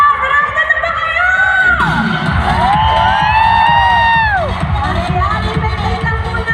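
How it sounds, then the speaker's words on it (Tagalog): A large crowd at an outdoor evening event shouts, cheers and whoops loudly and continuously, with children's high yells and rising calls swelling in the middle before easing slightly, and some talk mixed in. "Para mas hinig yung sigawan nila, no?"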